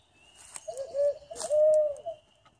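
An owl call device blown at an overnight camp imitates an owl hoot, giving two soft hooting coos in a row, the second longer, fairly close in a quiet outdoor setting.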